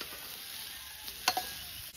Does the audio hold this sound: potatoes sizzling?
yes